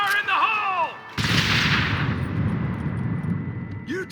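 Gunfire and a blast in Red Dead Redemption. A voiced shout gives way to a sudden loud explosion at about one second, followed by sustained heavy gunfire and rumbling that continue to the end.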